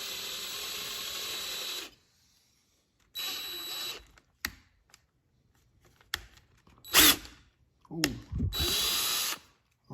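A power drill with a 1/4 inch bit runs into a car bumper in several loud bursts, broken by pauses, clicks and handling noises, with a little speech in between.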